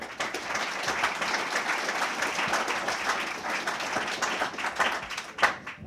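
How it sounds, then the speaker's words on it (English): A round of applause from the audience at an auction school graduation, steady dense clapping from many hands sustained for several seconds in a room, moderately distant. "I think we need to give them a round of applause."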